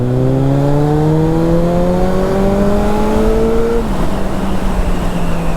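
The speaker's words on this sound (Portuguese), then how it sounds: "Vou dar uma aceleradinha para vocês verem a potência dela" A 2011 Suzuki Bandit 650 N motorcycle accelerates hard through the gears on a city street, its engine note climbing steadily, then dropping sharply at a shift before pulling on, loud and close.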